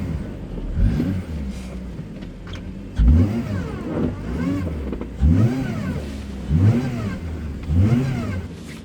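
A Honda Civic Type R FN2, front-wheel drive, revs hard in repeated bursts as its wheels spin in deep snow, each surge rising then falling, fairly close and loud with no talk.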